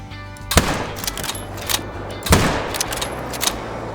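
Two loud, sharp 7mm bolt-action rifle shots in the hunting game Call of the Wild, spaced about two seconds apart, each a sudden crack with a short echoing tail over a quiet outdoor background, with no talking.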